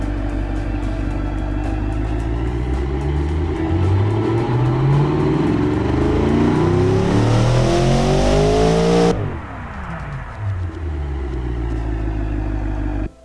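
A video game car engine in Automation revs hard toward 7,000 RPM, climbing steadily in pitch for several seconds, then drops sharply and idles back down, loud and close.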